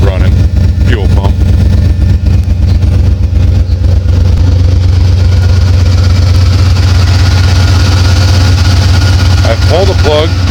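A Bosch 044 fuel pump runs on a 1987 Buick Regal turbo fitted with a 5.3 engine and 4L80E transmission, a loud steady idling engine drone holding throughout with a muffled voice underneath.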